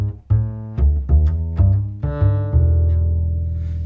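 A beginner double bass riff played in first position: a run of about seven deep plucked notes with long ringing sustain, each note clearly separated, ending on a held low tone, played alone with no talking.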